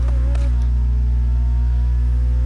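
Honda S2000 engine in the Need for Speed Heat racing game, revving briefly then settling into a loud, steady drone with a strong low hum throughout, no talk.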